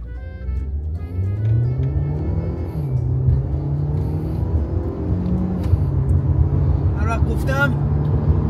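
A car launched in sport mode accelerates hard to 100, its engine note climbing and shifting beneath loud, close conversation from people inside the cabin.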